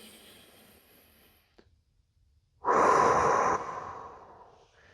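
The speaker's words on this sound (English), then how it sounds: "You just take a deep breath in through your nose, out through your mouth." One deep breath: a quiet pause, then a strong, close exhale rushing out for about a second before tapering off softly, with no talking.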